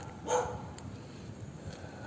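A dog barks once or twice in a forest, a short sharp burst near the start, then the woods go quiet under faint background noise.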